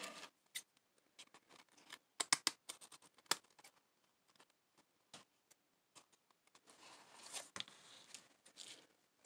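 Scissors trimming the edge of paper for a junk journal envelope: a quiet run of short, sharp snips and crisp clicks, some in quick clusters, with paper rustling near the end and no talking.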